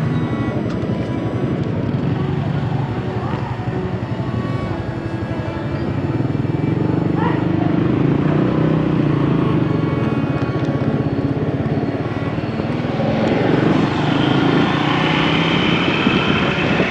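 A motorbike ride through city streets in Vietnam gives a steady, close engine drone with rushing wind and passing traffic, holding at an even, fairly loud level throughout.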